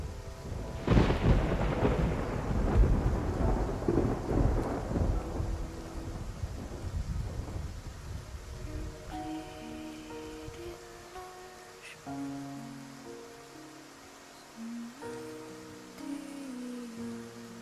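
A thunderstorm with rain at sea in the game Love and Deepspace: a loud, rolling thunder crash with rain and wind fades over several seconds into quieter rain under tonal game music.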